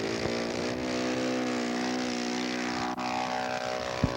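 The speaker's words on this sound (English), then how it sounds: "Test flight, Curtis Jenny." A 1/6 scale Curtiss Jenny model airplane on a test flight over a sod farm in Hubbard, Oregon drones with a steady, buzzing propeller-engine tone, loud and unbroken, without voices.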